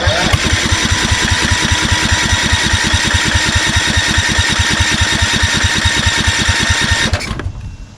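Kohler Courage engine on a Craftsman YS4500 lawn tractor cranking without starting, a loud, fast, steady chugging rhythm for about seven seconds that then stops abruptly.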